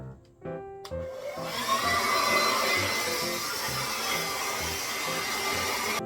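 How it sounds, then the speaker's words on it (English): A hair dryer fitted with a diffuser blows steadily on wash-and-go type 4 hair, a loud continuous whoosh that kicks on after a brief click and holds an even roar throughout. "I'm gonna go ahead and diffuse this."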